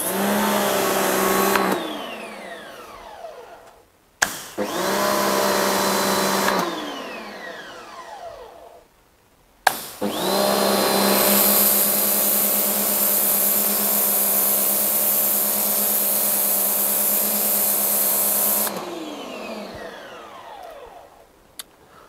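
A SUNPOW HP1172 high-pressure jet washer, rated at 165 bar, fires three loud bursts of spray with a steady motor whine, the last burst lasting about nine seconds, separated by short quiet pauses.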